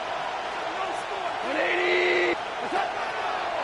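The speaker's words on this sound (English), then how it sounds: "This crowd into it now as we get to 3rd down." A stadium crowd in a Madden American football video game roars steadily and swells slightly midway, while a commentator talks over it.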